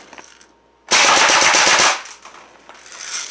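Umarex EBOS electronic CO2 BB gun firing an eight-shot burst, a loud, rapid, close string of sharp cracks lasting about a second between quiet pauses.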